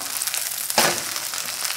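Seafood green onion pancake (haemul-pajeon) sizzling steadily in a frying pan, with a brief louder crackle burst near the middle as it settles, close and fairly loud with no talking.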